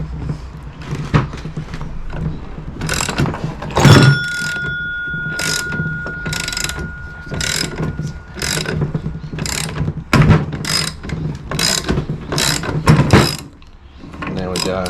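Puller tool being tightened on a Honda Motocompo engine case to split it, a series of close ratcheting clicks and metallic creaks in irregular bursts, with a few brief tonal squeals.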